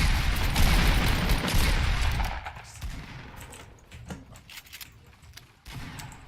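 Sustained video game gunfire shoots away a building, dense rapid shots loud at first, then thinning into scattered bursts and impacts.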